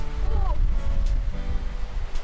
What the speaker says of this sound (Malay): Air terjun ni.